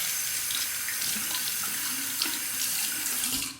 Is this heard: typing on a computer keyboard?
no